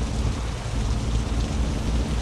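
Heavy rain in the truck-driving game Truckers of Europe 3 hisses as a dense, steady wash with a low rumble beneath, loud and unbroken throughout with no talk.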